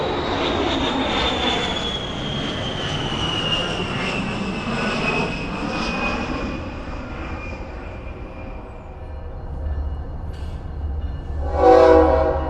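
An A-10 military jet passes overhead with a loud, broad roar and a slowly falling whine that fades into the distance, then a brief rise in noise near the end.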